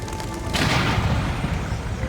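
A high-voltage power line explodes in a sudden broad blast about half a second in, leaving a loud, sustained roar and crackle that continues to the end.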